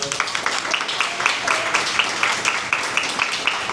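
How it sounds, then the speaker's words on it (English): An audience at a union event applauds a student, a steady round of many hands clapping with rhythmic accents from nearby clappers, continuous across the stretch. "Let's give her another round of applause."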